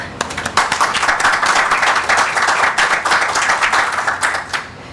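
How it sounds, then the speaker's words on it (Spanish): Audience applause at a history lecture at the Dominican Academy of History, close individual claps swelling quickly into brisk sustained clapping, then tapering near the end. "Pido un aplauso."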